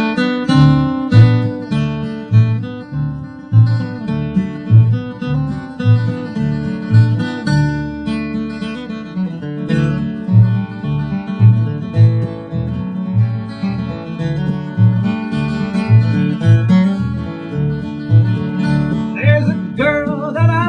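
A capoed string instrument plays the tune Bonaparte's Retreat, plucked notes in a steady, bouncing rhythm over a repeating low bass pattern, close and fairly loud, with no voices.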